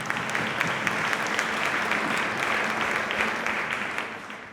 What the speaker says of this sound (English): So please give us a round of applause for the partners that we support all the ideas.